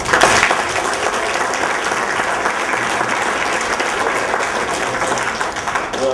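Applause from a room audience at a youth event fills the space, steady and dense with many hands clapping, loud and close throughout.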